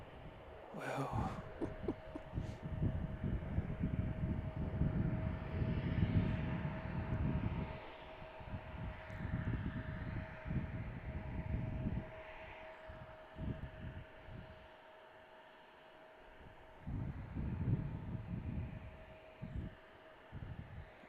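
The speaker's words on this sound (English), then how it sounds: "it's United Airlines 2406 that just landed from Houston" Jet engine rumble of a United Airlines airliner arriving at Chicago O'Hare from Houston, a steady throbbing hum with a constant whine, heard at moderate distance and rising and falling as the aircraft rolls by.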